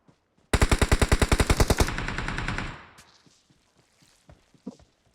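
Rapid automatic gunfire from behind in a shooting video game, a loud burst of about a dozen evenly spaced shots that blurs into a roar and fades, followed by scattered faint clicks and footsteps.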